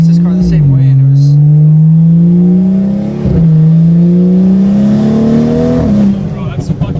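BMW engine with a straight-piped exhaust revs at quarter throttle, a loud close droning blat that climbs in pitch, drops back and climbs again in two long pulls.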